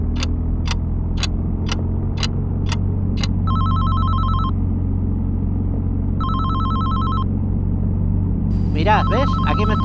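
A phone ringtone plays through a car's CarPlay system with a Carpuride W702B unit: six quick repeated beeps, then two longer melodic rings, heard loud over steady engine and road hum inside the moving car.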